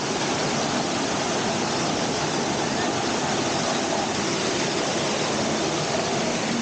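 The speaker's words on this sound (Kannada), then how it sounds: "ಕೊಲ್ಲೂರಿನ ಘಾಟಿ ಎಂಟ್ರಿ ಆಗ್ತಾ ಇದ್ದಂಗೆ ಈ ಥರ ಒಂದು ಫಾಲ್ಸ್ ಸಿಗುತ್ತೆ" A waterfall at the Kollur ghat roars with a constant, loud, broadband rush of falling water that stays unbroken throughout, with no voices.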